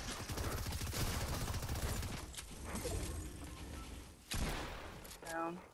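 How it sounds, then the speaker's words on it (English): Rapid bursts of automatic gunfire in a video game crackle continuously, then give way to sharper single shots and a brief clatter near the end. "Infinite gunfire in every direction."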